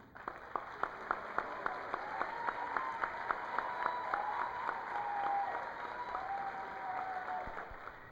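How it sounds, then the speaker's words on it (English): Steady applause from a crowd at a 2006 secondary school graduation at Caribbean Union College, faint and distant, with scattered sharper claps standing out and a few faint whistles or voices mixed in. "we usher in a round of applause for them"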